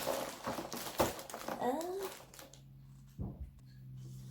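Crinkly plastic shopping bags rustle and crackle through the first half, with a voice briefly present, then quieter background hum.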